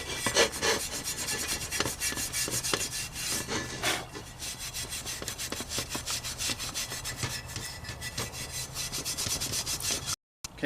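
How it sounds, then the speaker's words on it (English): A cast iron roasting pot being scrubbed with sand or steel wool: rapid, harsh rasping strokes in a steady back-and-forth rhythm, close and continuous, with short pauses before the scrubbing stops abruptly at the end. "let's try to hit it with some sand or the steel wool"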